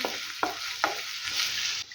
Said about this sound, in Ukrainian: Наша цибуля обсмажується на сковороді,